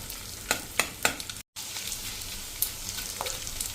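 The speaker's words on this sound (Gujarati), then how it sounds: "આપણું ઘી પણ ગરમ થઈ ગયું છે, તો પહેલા આપણે 1 ચમચી જેવો નાખી અને આ રીતે ફ્રાય કરી લેશું" Edible gum (gond) frying in hot ghee gives a soft continuous sizzle, punctuated by several sharp spoon scrapes and clicks as the pieces are stirred, with one brief dropout partway through.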